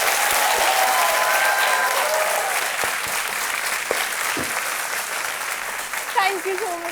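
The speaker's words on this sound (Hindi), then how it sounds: "ताली बजते रहे" Studio audience applauding on the set of the Hindi quiz show Kaun Banega Crorepati, sustained loud clapping throughout, with a host's voice speaking over it and a few musical tones near the end.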